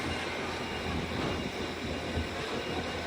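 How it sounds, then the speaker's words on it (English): A Transpennine Express class 802 train arrives at Leeds station, a steady rolling rumble with wheel noise and faint squeal, moderately close, with no talk. "Arriving in now is the Transpennine Express 802."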